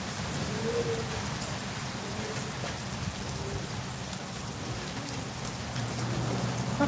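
Steady rain pours down outdoors during a fishing outing, a dense continuous hiss of drops hitting surfaces and water, with faint bird calls now and then in the background.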